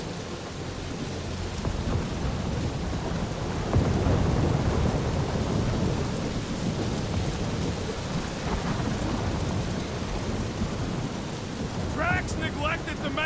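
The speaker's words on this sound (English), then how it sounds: "That is some really crazy lightning out there!" A video game thunderstorm in Guardians of the Galaxy, with steady heavy rain pouring on surfaces and low rumbling thunder, a dense continuous wash of noise that swells briefly partway through.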